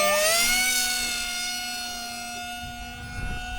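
An Aeroscout light aircraft engine at zero throttle in flight holds a steady, loud tonal hum that swoops upward at the start and then settles into an even drone, with no voices.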